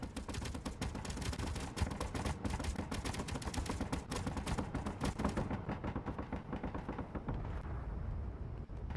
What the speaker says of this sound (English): I like hearing the gunfire randomly